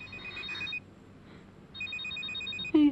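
A telephone rings in an indoor domestic scene, with two bursts of electronic ringing separated by a short quiet gap, followed by a brief low sound at the end.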